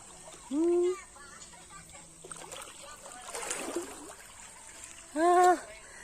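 Outdoors, water splashes and trickles as someone bathes, a soft, scattered wash of splashing between two short vocal sounds from a person nearby.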